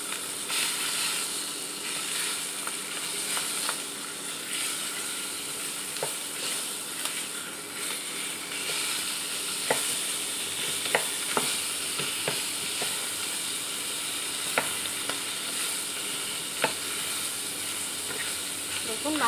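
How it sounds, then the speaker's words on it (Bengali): Fish head frying in a pan of oil for a Bengali bok phool (hummingbird flower) dish, a steady close sizzle and crackle with occasional sharp pops and spatters throughout, no talking. "দেখুন মাছের মাথাটা এক পিঠ ভাজা হয়ে গেছে।"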